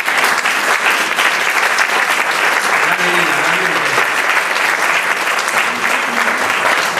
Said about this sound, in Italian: io direi di fare subito un grande applauso a Lina